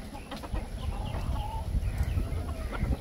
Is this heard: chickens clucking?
yes